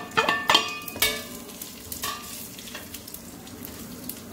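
Spices dropped into hot oil for an aloo gobhi masala, giving a few sharp sizzling bursts and clinks at the start, then a quieter crackle that trails off, close by with no talking.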